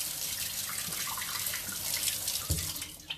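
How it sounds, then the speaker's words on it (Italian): Tap water runs steadily into a kitchen sink while hands are rinsed, with a continuous close splashing wash and a brief louder splash near the end, heard alone without talk. "Devo sciacquare le mani."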